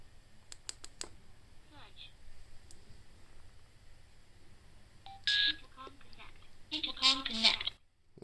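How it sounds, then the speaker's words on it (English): A Wayxin M910 Pro mesh helmet intercom pairing: a few sharp beeps at the start, a quiet stretch, then louder electronic tones and a synthetic voice prompt near the end. "Now we're going to tell the M910 to go find a friend."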